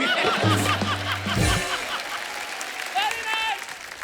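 A studio audience applauds with scattered laughter and chuckles, with voices talking over the clapping, which fades out after a couple of seconds.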